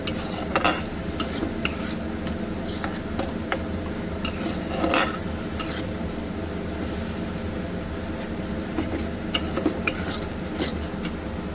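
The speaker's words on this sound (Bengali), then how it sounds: "দিয়ে একটু মশলাটাকে কষিয়ে নেব" Spice paste for a Bengali prawn and kochur loti curry fried in a pan, with a spoon steadily scraping and stirring against the metal over a soft sizzle, and a few sharper clinks standing out.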